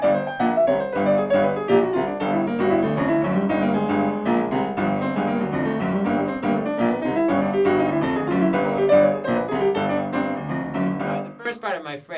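Dense piano passage from a Mission Impossible arrangement, chromatic and angular melodic lines over a Dorian scale played continuously at steady moderate loudness, ending with a brief burst of noise.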